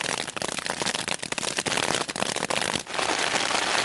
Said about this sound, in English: This is actually pretty heavy rain now.